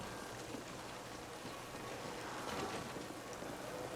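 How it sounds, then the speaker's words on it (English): Constant rain in a neon-lit city district of the video game The Ascent on Xbox Series X, a quiet, steady wash of falling drops with no speech. "this is a part of town where it's always raining"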